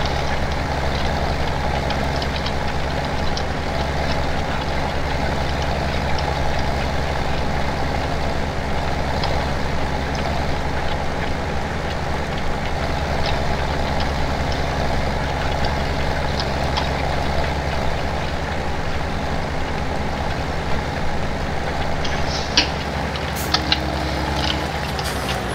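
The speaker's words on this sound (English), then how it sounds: "This little tractor is like a 1950. It's so loud." Loud, steady engine drone of a small old 1950s-style tractor in the Farming Simulator video game, a continuous rumbling idle-like hum that holds throughout with only a few faint clicks near the end and no talk.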